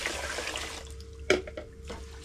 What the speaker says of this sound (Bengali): চালটা আগে ধুয়ে নিই